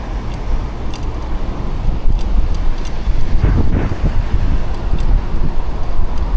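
Wind buffeting a microphone while cycling over a small bridge in Shantou, Guangdong: a loud continuous low rumble with gusty swells, with faint traffic or water-vehicle noise mixed in and no talking.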